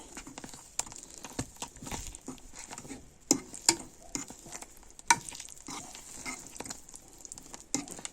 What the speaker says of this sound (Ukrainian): Розмішуємо, поки воно не розтане.